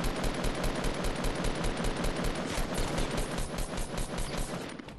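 Rapid automatic gunfire from a shooter video game, a dense, loud stream of shots running almost without a break for several seconds, alone with no talking.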